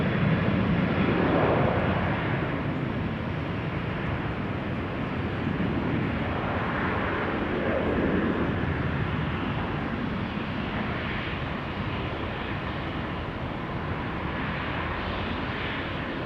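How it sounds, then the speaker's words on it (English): A KLM Boeing 737 jet at Amsterdam Schiphol gives a steady, broad engine roar that holds at an even level throughout, with no voices. "KLM 737 to Venice."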